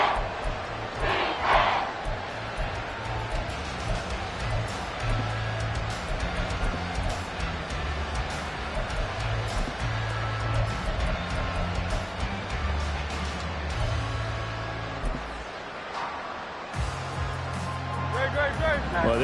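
A stadium crowd roars steadily and loudly throughout an American football game, with play-by-play commentary running over the noise.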